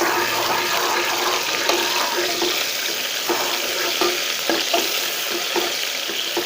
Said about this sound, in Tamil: சாம்பார் வெங்காயம், அதை வந்து நம்ம இதில் சேர்த்துடலாம்